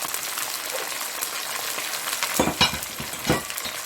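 Ginger garlic paste, a teaspoon and a half, goes into a hot pan for beef achari gosht and sizzles steadily up close, with a few louder spatters and stirring scrapes near the end.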